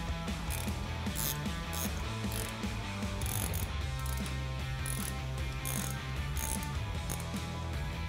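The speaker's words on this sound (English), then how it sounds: "You can also take a socket, and we're gonna go ahead and tighten that down." A socket wrench ratchets steadily while tightening a bolt on a Rough Country 4-inch lift kit for a 1997-2006 Jeep Wrangler TJ, a continuous close clicking with faint background hum.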